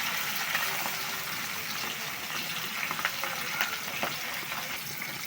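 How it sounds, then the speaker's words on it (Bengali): Small sher punti fish fry steadily in hot oil, a continuous close sizzle and crackle with scattered sharper pops, no talking. "মাছ ভাজা হয়ে গেছে"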